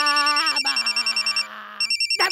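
A telephone rings with a rapid electronic trill in short repeated bursts, close by, with a brief voice-like tone underneath.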